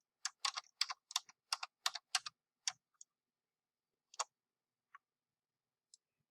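Fingers type on a computer keyboard in quick bursts of crisp, close clicks, a rapid run of keystrokes followed by a few scattered single taps in an otherwise quiet room.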